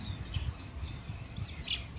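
Golden weaver chicks calling from their nest on a rainy morning, heard as faint, brief high chirps that come and go over a low, steady background.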